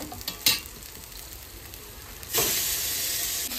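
Fish pieces fry in a pan: a short sizzling burst, a quieter stretch, then a loud, steady hiss of hot oil that carries on to the end, heard up close.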